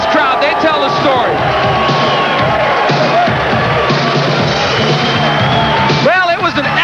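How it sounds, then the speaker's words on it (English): A boxing arena crowd roars and cheers loudly and continuously after a ten-round fight between Joey Ruiz and Harold Brazier, with a commentator talking over the din and a surge of whoops near the end. "Listen to this crowd."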